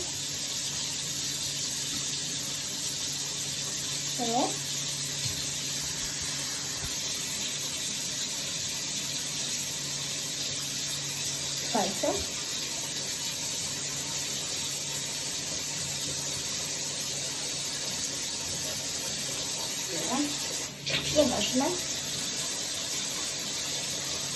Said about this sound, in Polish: zapomniałam, że woda się leje